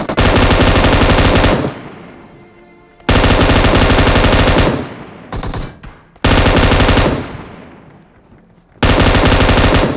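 M249 light machine gun in a video game, firing in four long, loud sustained bursts, each ending in a short decaying echo, with no talk.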